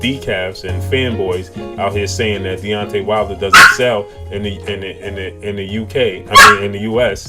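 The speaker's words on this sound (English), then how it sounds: "that's my dog barking." A dog barks a couple of times in the background, short sharp yelps breaking through as someone talks continuously up close.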